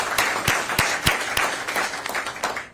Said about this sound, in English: So I want to give you one more round of applause